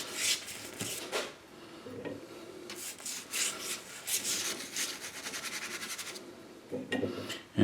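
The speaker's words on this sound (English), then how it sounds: "I'm going to put the glue on the back" Glue is brushed onto the back of a wood veneer sheet for hammer veneering, producing repeated rasping, rubbing strokes in bursts with short pauses, close and fairly loud.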